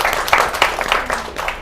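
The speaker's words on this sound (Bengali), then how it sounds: "হাততালি।" Applause from students at a school quiz competition in Harekrishna Kusumkali High School, a steady burst of clapping from a small group in a room, moderately loud throughout.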